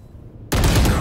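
Gunfire in a Valorant esports match, a sudden loud burst of shots cutting in halfway through after near silence.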